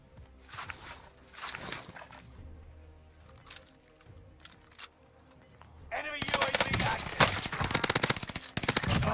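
Gunfire in the Warzone video game: scattered single shots and short bursts at first, then a sustained loud stretch of rapid automatic fire close by, with a voice speaking over the early part.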